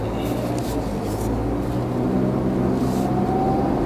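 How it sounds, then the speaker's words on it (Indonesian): A 2021 Suzuki Baleno hatchback's engine running smoothly, a low steady hum from inside or beside the car, faint road or motor rumble continuing without break. "Suara mesinnya juga masih halus banget."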